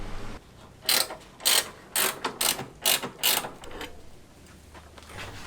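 A ratchet wrench loosens the strut bar on a car during a valve cover gasket replacement, sounding as about seven rapid, close clicking bursts in an uneven rhythm with short pauses between, and no voices.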